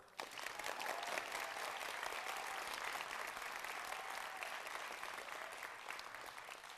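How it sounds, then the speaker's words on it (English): A theatre audience claps steadily after a production, a dense, even wash of applause that starts abruptly and slowly tapers off, with no talking. "Another round of applause."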